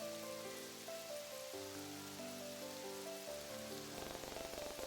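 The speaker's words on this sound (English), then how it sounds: "the rain only seems to get heavier the moment he leaves" Steady rain falling in the visual novel game 14 Days With You, a continuous wash of rainfall over soft melodic background music, no voices.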